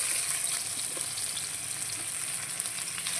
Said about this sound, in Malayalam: എണ്ണ ചൂടായി നേരെ പൊട്ടിത്തെറിയൊക്കെ ഉണ്ട്